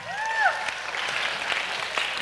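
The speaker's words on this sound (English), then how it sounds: "And you can applaud these people." Audience applause at a charity gala book auction, a brief dense patter of clapping that follows a rising voice or whistle at the start, steady and moderately loud for about two seconds.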